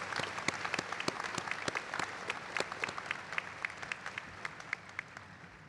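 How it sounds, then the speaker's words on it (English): A 2023 commencement audience for graduate nursing and optometry applauds: a hall of clapping that starts dense, then thins to a few scattered, fading claps. "Let's give them another huge round of applause."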